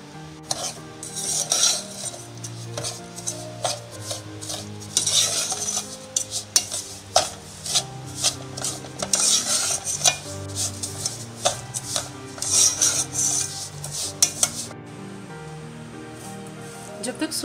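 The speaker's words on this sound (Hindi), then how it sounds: "जब तक सूजी ऑयल के अंदर फ्राई हो रही है" Semolina frying in hot oil in a cooking pot while a metal spoon stirs it, with steady scraping and clinking strokes over a soft sizzle. The stirring repeats in bursts and stays close and fairly loud, and a voice talks over parts of it.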